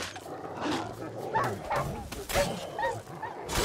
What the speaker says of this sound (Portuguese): o jogo só me larga com cachorro